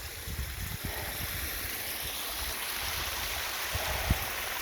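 Water rushes steadily down a small stepped waterfall stream swollen after a storm, a constant outdoor hiss with occasional low thumps and bumps near the microphone.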